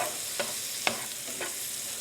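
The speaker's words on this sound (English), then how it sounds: "we're just gonna saute these guys until they're translucent, maybe a minute or 2 or 3" Shallots sauté in a pan ahead of a lime basil cream sauce, giving a faint, even sizzle with three light spoon taps or scrapes spaced across the stretch.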